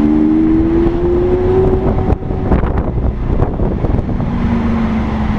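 A Lamborghini Aventador engine drops a gear while driving, a loud steady roar that breaks at the shift into a burst of crackling revs before settling back into a lower, continuous drone over wind noise.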